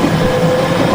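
A Seibu Ikebukuro Line train rumbles past steadily at close range, a continuous loud roar of rolling wheels and motor hum.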